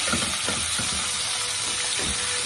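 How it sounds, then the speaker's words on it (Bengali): Cauliflower florets and potatoes fry in hot oil in a pan, a steady loud sizzle and hiss filling the whole stretch with a few soft stirring bumps underneath. "আমি কপিগুলো ভেজে নিয়ে নিচ্ছি আলুর সাথে।"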